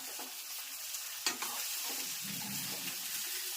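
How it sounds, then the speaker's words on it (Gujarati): Sesame tempering poured or stirred over patra sizzles steadily nearby, a bright hiss with a sudden crackling burst early on followed by scattered pops and stirring scrapes. "તલવાળા મસ્ત મજાનો વઘાર"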